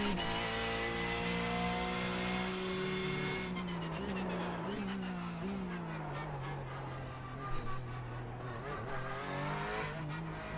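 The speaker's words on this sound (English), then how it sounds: "You can hear me locking up every now and then." A Porsche 911 GT3 Cup in the iRacing sim racing game locks its tires under braking, a screech over the loud revving engine as it downshifts, with a steady engine drone throughout.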